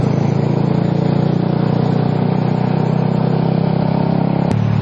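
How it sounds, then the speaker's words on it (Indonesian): A motorcycle engine brakes at too-high RPM, a loud, close, steady strained drone that holds evenly before cutting off abruptly near the end. "itulah yang akan terjadi ketika lo engine brake di RPM yang terlalu tinggi. Motornya bahkan ngeden."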